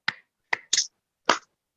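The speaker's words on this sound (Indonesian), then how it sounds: "Tepuk tangan fans Arsenal." Four sharp, separate hand claps sound close and dry against silence, spaced unevenly over under two seconds, from a call to applaud Arsenal fans.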